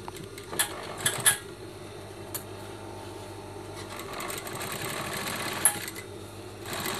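A sewing machine stitches a shirt cuff, running in a steady, rapid mechanical patter at close range, with a few light clicks and taps from handling the fabric and no speech.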